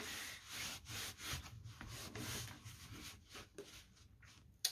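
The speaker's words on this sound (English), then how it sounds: "Piece of paper towel, press down onto that." A paper towel is pressed and rubbed onto a stencil laid over a card front, giving faint, soft, repeated scrubbing strokes in an irregular rhythm.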